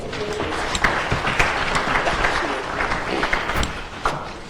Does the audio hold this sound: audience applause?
yes